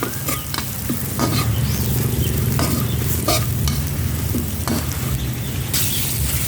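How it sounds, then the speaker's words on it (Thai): Pork stir-fried with chili curry paste in oil, a loud close sizzle with repeated scraping and clacking of a utensil against the pan in an irregular rhythm, no voices. "ผัดหมูกับพริกแกงให้เข้ากันครับ ผัดจนหมูสุกได้ที่ครับ"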